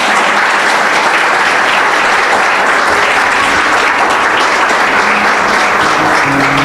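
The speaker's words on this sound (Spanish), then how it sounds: "Dale un aplauso al Señor" A church congregation applauds loudly and continuously, a dense wash of clapping hands filling the whole stretch with no speech over it.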